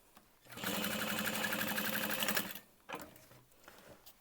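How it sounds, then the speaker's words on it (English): A sewing machine stitches fabric in a fast, steady whir for about two seconds. After a brief pause, a second short burst of stitching follows, close and clear. "Just going to keep sewing."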